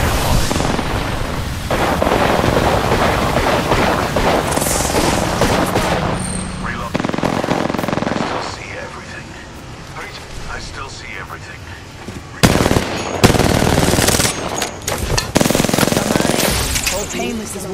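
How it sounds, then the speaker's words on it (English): Automatic and rapid gunfire from the Apex Legends battle royale game crackles in dense bursts with booming hits, mixed with game effects and voice chatter throughout. "Getting shot at."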